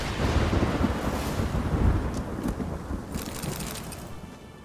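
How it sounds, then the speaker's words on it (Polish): Thunder rolls through a stormy scene in The Witcher 3, a deep rumble loudest early that fades gradually, with wind and rain hiss in the background. "Jeszcze burza."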